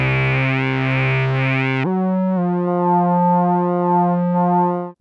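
A CyDrums synth drum voice plays with its filter resonance modulated by pad pressure. A buzzy sustained tone carries sweeping resonant overtones, then drops to a lower held note and cuts off, with no talking.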